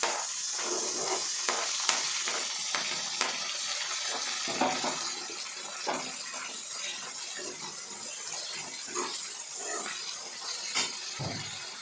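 Chopped medium-size tomatoes fry in a pan with browned onions, a continuous soft sizzle broken by scraping stirs and light clinks of a spoon, fairly close and without any voice.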